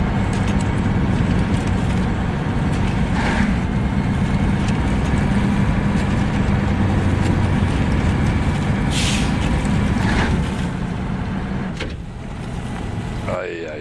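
A heavy truck engine roars steadily at full throttle in the SnowRunner driving game, a dense continuous drone with brief hissing bursts, while a voice talks over it.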